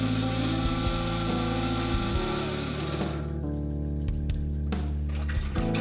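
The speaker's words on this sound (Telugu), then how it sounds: "కొద్దిగా నీళ్లు పోసుకుంటూ మిక్సీ పట్టుకోవాలి." A kitchen mixer grinder whirs loudly while grinding peanut chutney as a little water is added. Its steady motor hum changes tone partway through as the mixture thins, and brief rattles and clicks from the jar come through.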